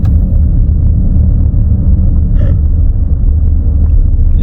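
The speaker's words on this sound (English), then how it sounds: "You can hear what sounds like a wheel bearing roaring." Steady low roar from a 2018 Ford F150 driving slow with a worn wheel bearing, a loud continuous rumbling drone with no talk over it.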